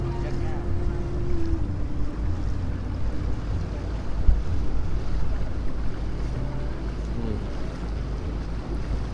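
A boat on a wide river in Laos gives a steady low engine rumble mixed with wind buffeting the microphone and water wash, continuous and moderately loud, with a brief thump midway.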